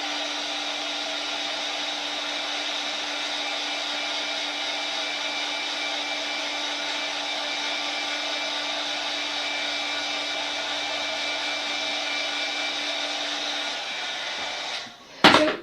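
A heat tool blows steadily for about fifteen seconds, drying double-stamped ink on a card, a constant loud whooshing hum that stops abruptly with a short clatter at the end.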